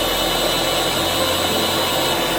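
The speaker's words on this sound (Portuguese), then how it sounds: "diminua a velocidade da batedeira" An electric mixer beats pineapple cake batter with sugar, giving a loud, steady motor whir with a constant high whine that never changes over the short stretch, with no speech.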